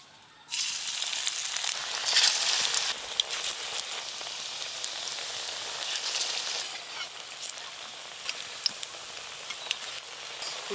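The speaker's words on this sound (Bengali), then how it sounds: "তেল গরম হয়ে গেছে, এবার পোস্তর বড়াগুলো ভাজা শুরু করে দেব।" Poppy seed fritters (posto bora), mixed without water, dropped into hot oil: a loud, dense sizzle bursts in abruptly and holds steady, dotted with small crackles and pops.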